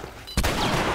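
Gunfire in The Last of Us game: a sudden loud, close blast cuts in partway through, followed by sustained roaring noise from more shots and echoes.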